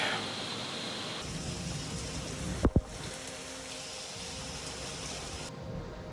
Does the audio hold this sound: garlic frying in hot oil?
no